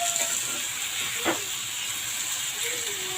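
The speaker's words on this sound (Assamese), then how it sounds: "বিলাহীখিনি অলপ ভালকৈ ভাজি ল'ম" Tomatoes sizzle in hot oil in a pan with ginger and a green chilli, a steady soft frying hiss throughout with a brief stir scrape midway, fairly quiet and with no talk.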